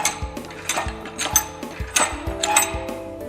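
Ratcheting wooden wine press being cranked down to crush grapes at a winery: a steady series of loud metallic ratchet clicks and clanks repeating about every third of a second, close up with no talk.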